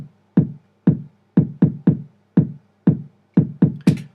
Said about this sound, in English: I'm going to add another kick drum note there in that last bar, and it's going to sound like this.